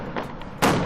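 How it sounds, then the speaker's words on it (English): Fireworks in the Dream Daddy game, launched over a night fair: a soft launch thump followed by a loud, bright burst that crackles on, heard alone without talk. "The fireworks launch into full spring, bursting around us in a rainbow of reds, greens, blues, and whites."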